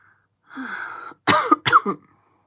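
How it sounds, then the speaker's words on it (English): A person coughs and clears their throat, lingering after a cold: a rough throat-clearing rasp, then two sharp, close coughing bursts in quick succession, loud and alone. "See, the cough's coming now."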